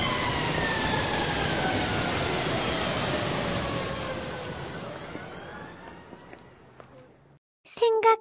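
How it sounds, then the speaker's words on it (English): A wailing siren with long sliding tones, steady and fairly loud, fading out near the end before a short burst of other sound. "I'm a fire engine."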